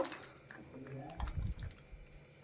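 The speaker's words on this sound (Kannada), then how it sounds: "ನೀರು ಸೇರಿಸ್ಕೊತಾ ಇದ್ದೀನಿ" Water is poured into a pot of village-style mutton sambar masala, a short, low splashing gush heard faintly and briefly in the middle of a quiet kitchen.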